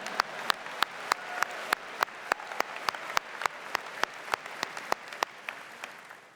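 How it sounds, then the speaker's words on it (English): An audience at a university inauguration address in South Bend breaks into applause, steady rhythmic clapping from a large crowd that stays even and full for several seconds. "We know that, you can clap."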